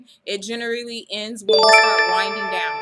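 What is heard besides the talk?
subscriber notification chime on a live stream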